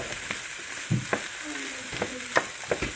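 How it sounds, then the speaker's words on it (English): Corn being stirred and fried in a pan for vegan fried rice, with a continuous light sizzle and several distinct spatula clacks and scrapes spread through, close and fairly clear with no voices. "And mix it and cook until the corn"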